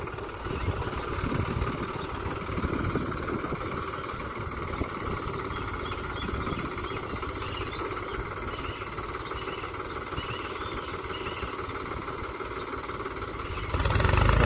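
A Mahindra 265 XP tractor engine labours under a fully loaded trolley, its wheels sunk and stuck. A steady low droning rumble runs throughout at constant strain and swells louder at the very end.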